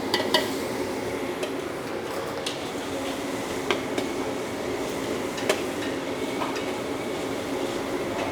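Garlic fries in margarine in a pan, giving a constant sizzle with repeated scraping stirs and metal taps scattered through it, close and without speech.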